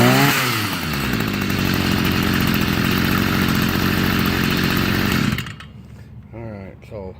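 A Stihl MM 55 gas-powered yard tool runs steadily at close range with a loud, buzzing two-stroke engine for about five seconds, then cuts off abruptly, leaving faint background noise and handling sounds.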